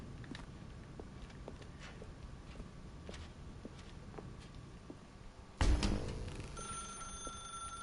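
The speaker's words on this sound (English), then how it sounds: "Now pick up the phone." A telephone rings in The Stanley Parable, quiet repeated bell trills over a soft background with a few light taps, ending in a sudden louder thud and lingering noise.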